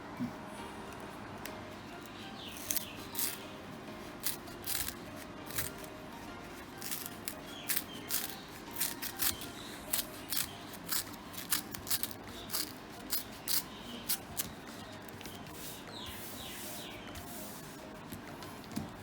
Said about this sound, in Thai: ใช้กรรไกรตัดนะครับ